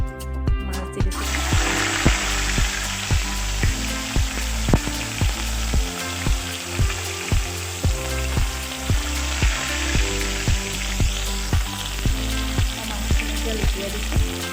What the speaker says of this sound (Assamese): তেলখিনি এতিয়া গৰম হ'ল, মই এতিয়া মাছ দি দিছোঁ।